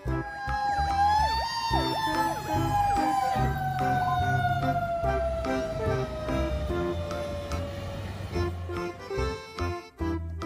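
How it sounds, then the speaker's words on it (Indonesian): A toy fire truck wails a siren with a sliding, falling electronic tone over a busy, tinny background of toy music and sound effects. The siren is fairly loud and fades out near the end. "Mobil truk pemadam kebakaran."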